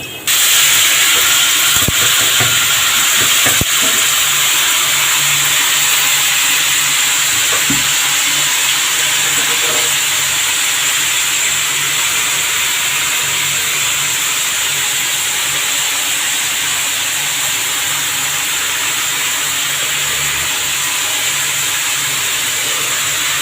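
Pumpkin pieces added to a hot pan of lightly browned fried onions, producing a loud, steady hiss and sizzle that holds throughout with no talking.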